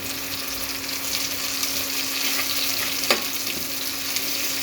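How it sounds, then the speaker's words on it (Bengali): Whole cumin seeds hit hot oil in a pan and sizzle with a steady, moderate crackling hiss, a sharp pop or clink near the middle, no talking. "এবার গোটা জিরা দিয়ে দিচ্ছি"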